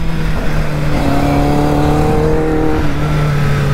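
Motorcycle engine on a race track during a lap, a steady loud drone with clear tonal harmonics that rise and shift as it revs, continuous and close throughout with no talk.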